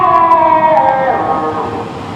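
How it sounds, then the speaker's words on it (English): A defective siren at an outdoor parade and flag raising gives a loud, wavering, strained wail that drifts downward in pitch and sounds off-key, steady for a couple of seconds with no voices over it. "Now that is one defective siren."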